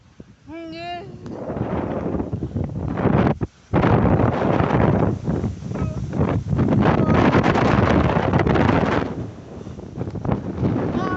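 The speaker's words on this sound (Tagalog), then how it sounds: "Hangin talaga dito" Strong wind in the Himalayas buffets the microphone in heavy, roaring gusts that drop out briefly and return, with voices speaking at the start and under the noise.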